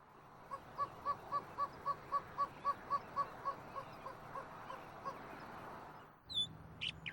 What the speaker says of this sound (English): A roadrunner makes a very unique call.